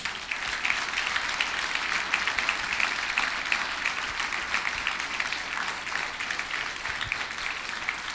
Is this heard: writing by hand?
no